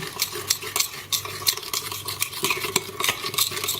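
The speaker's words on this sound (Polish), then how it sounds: "Do marynaty wlewam oliwę z oliwek i całość dobrze wymieszam" An olive oil and marjoram marinade with red pepper is stirred briskly in a bowl, giving repeated scraping and clinking strokes of a utensil against the sides at a steady, fairly loud rhythm, with no voices.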